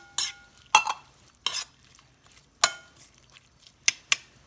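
A spoon stirs canned corn into a Tex-Mex rice and bean casserole, giving a series of sharp scrapes and clinks against the dish at irregular intervals, close and clear with no talking.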